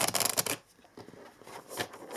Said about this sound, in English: So we're going to shuffle a little bit here